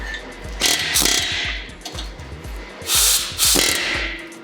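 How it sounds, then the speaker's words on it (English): Rapid metallic hammering and rattling from a pneumatic air hammer loosening a brake caliper bolt on a BMW E92 M3, loud and close, in short repeated bursts. "just adapting the air hammer onto like a 3/8 drive."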